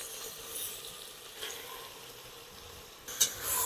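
Tomatoes fry in a pan for Hyderabadi mutton biryani gravy, giving a steady, gentle sizzle that stays quiet and close throughout, with a brief clatter near the end and no one talking.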